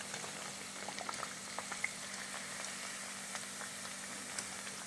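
Oats cutlets shallow-frying to a crisp golden brown in hot oil, a continuous close bubbling sizzle with scattered small pops and crackles, steady and without voices.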